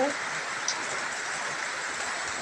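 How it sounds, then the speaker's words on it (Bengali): Steady hiss of rain falling, a constant broadband wash with no breaks, moderately close. "দেখো বৃষ্টি পড়ছে"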